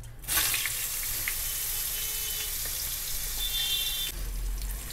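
Eggplant pieces fry in a pan for a Bengali shukto, giving a steady, close hiss of sizzling oil that starts abruptly and shifts in tone near the end.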